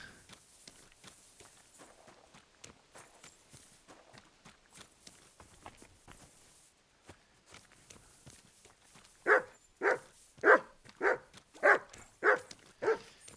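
A dog in a video game barks about eight times in a loud, evenly spaced run near the end, after a long stretch of soft footsteps.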